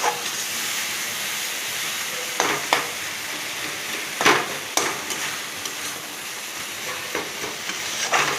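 Bottle gourd and boiled potato sautéing in a hot pan for a gourd and prawn curry, a steady loud sizzle with occasional stirring scrapes and clatters throughout.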